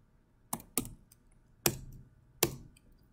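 Code being typed on a computer keyboard while building a medical information website: four distinct clacking keystrokes spaced irregularly, close and fairly quiet, with no talk.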